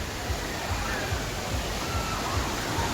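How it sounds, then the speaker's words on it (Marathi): A waterfall at the Aarey Colony dam in Goregaon, Mumbai, gives a steady, rushing broadband roar, moderately loud and continuous, with a low rumble underneath. "तुम्ही पाहू शकता धबधबा"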